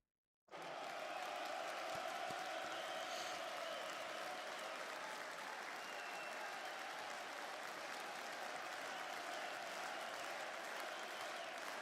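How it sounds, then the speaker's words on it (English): Sustained applause from a crowd gathered at the close of a live event, dense steady clapping starting abruptly and holding at an even level throughout without pause. "we'll end with a nice round of applause"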